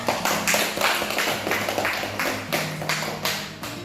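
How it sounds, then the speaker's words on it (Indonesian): A classroom of students claps in rhythmic rounds, loud, close, repeated bursts of hand claps with a low hum underneath. "Oke, tepuk tangan"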